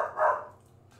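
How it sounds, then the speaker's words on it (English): A single short, faint dog bark rises and fades within a fraction of a second, followed by near silence. "Yes, doggies, woof woof."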